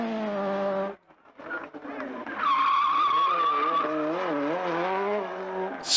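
Group B rally car races past with a rising, wavering engine note and tires skidding on the surface, loud and close, after a brief gap of near silence.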